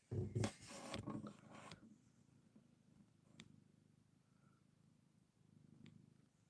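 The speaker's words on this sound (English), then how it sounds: "Wally purrs." Cat purring softly and close, a low continuous rumble running through the clip after a burst of brief rubbing and scratching noises at the start, quiet overall with no talk.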